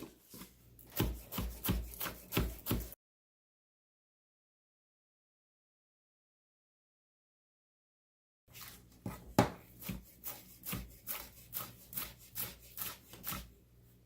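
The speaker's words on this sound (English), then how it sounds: "chop some chives and green onions and parsley and just add it to our dish" A knife chops chives, green onions and parsley on a board for shrimp and sausage jambalaya. Two runs of steady, rhythmic close chops are separated by a long silent gap, with no talking.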